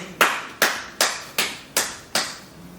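Six sharp, evenly spaced claps in a steady rhythm from the audience at a township board meeting, close and distinct with brief quiet gaps between them and no talking.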